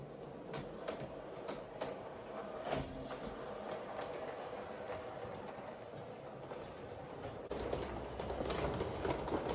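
A G-scale model train rolls along its track with a faint, steady rumble and scattered clicks, growing slightly louder near the end.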